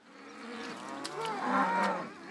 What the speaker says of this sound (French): élève des vaches laitières